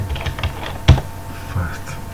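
A computer keyboard is typed on at close range, with a few soft keystrokes around one sharper press and low background murmur.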